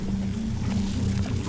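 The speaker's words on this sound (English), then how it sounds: "the sound still came from the boat" A boat moves backwards in an inverted scene from the film Tenet, producing a steady low engine rumble mixed with rushing wind and water noise.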